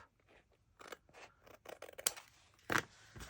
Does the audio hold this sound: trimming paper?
yes